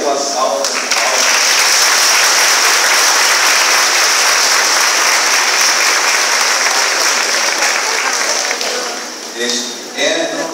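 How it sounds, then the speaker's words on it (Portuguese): A church congregation at Easter Mass breaks into warm sustained applause, a dense wash of many hands clapping for around ten seconds before tapering off, with brief voices at the start and end. "peço para ele uma salva de palmas"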